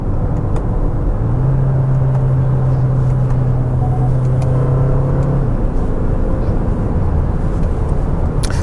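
Interior sound of a 2026 Hyundai Palisade Hybrid Calligraphy driving smoothly: a steady, loud low road rumble and soft whir, with a faint tonal hum rising briefly in the middle.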